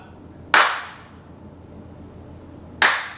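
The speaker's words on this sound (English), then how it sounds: "I did a clap test and the room echo" Two single hand claps in a small untreated room, each a sharp loud crack followed by a noticeable echoing decay tail, spaced about two seconds apart with quiet between.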